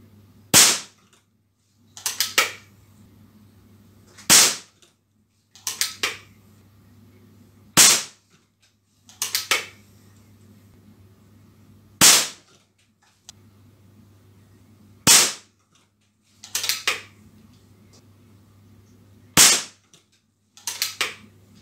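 Sharp snapping shots from an air pistol firing pellets in precision target shooting, eight of them spaced a few seconds apart, each a crisp crack followed by quiet.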